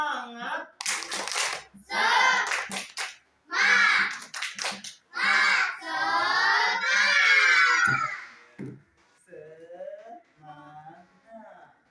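In a classroom, children clap loudly in rhythmic bursts while shouting and chanting together, an energetic group cheer that fades to quieter voices at the end.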